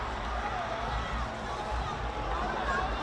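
Royal College supporters cheering and shouting in a steady, dense crowd roar at a Dialog Schools Rugby League match against St. Peter's College, sustained throughout with babble and no clear single voice.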